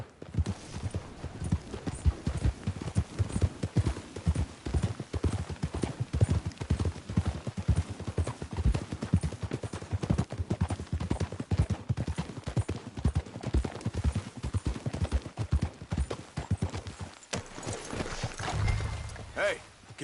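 Horse hooves clip-clop at a steady walking rhythm in a Red Dead Redemption II scene, close and distinct, running under intermittent speech with a faint whinny near the end.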